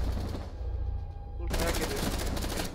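Rapid automatic gunfire from Rainbow Six Siege, a sustained rattling burst up close, fading briefly before a second loud volley.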